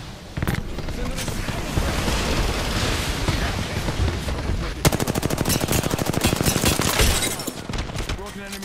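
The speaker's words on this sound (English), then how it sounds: "Shot fired." Rapid automatic gunfire rattles through a shooter video game, dense and loud, with a fast, steady burst of shots in the second half over continuous battle noise; a player talks at times.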